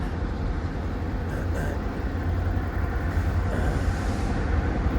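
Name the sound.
Arkansas Midland Railroad train passing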